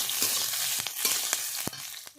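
Spices and chopped chili fry in a pan with a steady close hiss, punctuated by several sharp clacks of stirring.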